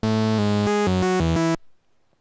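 A Circuit Mono Station synthesizer plays a short run of bright, buzzy notes that step up and down, gritty with added noise, then cuts off abruptly into a brief fading tail.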